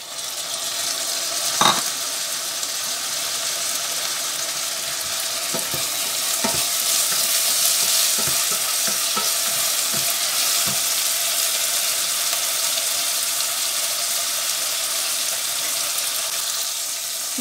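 Tomatoes frying in olive oil give a steady, close, broadband sizzle with a few sharp clicks and pops near the start and middle, continuing evenly throughout with no talking.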